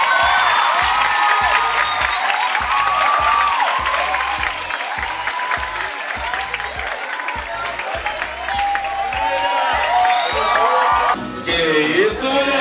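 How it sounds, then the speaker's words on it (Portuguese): Students at a school mathematics week event applaud Professor Sacramento, loud continuous clapping mixed with cheers and whoops from a large crowd, with shouting voices rising near the end. "vamos aplaudir o professor Sacramento"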